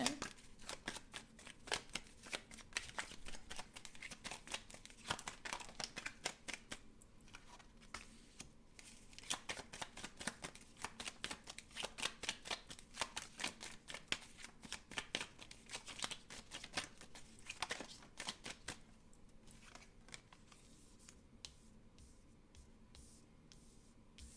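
A deck of cards is shuffled during a card reading, quick riffling flutters and soft slaps repeated continuously at close range, fairly faint with no talking.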